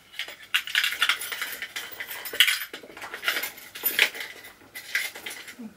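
Metal keys jingle and clink in light bursts as a key is handled and tucked into the corner of a small designer handbag, with faint rustling between the clinks.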